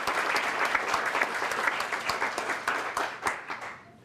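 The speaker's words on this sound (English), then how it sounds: "let's give them a round of applause" Audience applause for scholarship recipients at a Martin Luther King Jr. scholarship reception, a steady, dense round of clapping from a crowd that holds for about four seconds before thinning out at the end.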